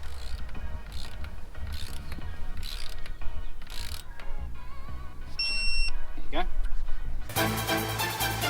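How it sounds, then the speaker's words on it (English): A torque wrench ratchets in short clicking bursts while tightening wheel studs on a Renault Megane during a spacer and stud conversion, with a voice talking over the work and a brief electronic beep. "Just got to quickly torque these up now to spec"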